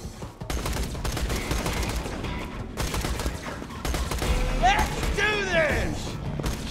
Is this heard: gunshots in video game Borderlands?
yes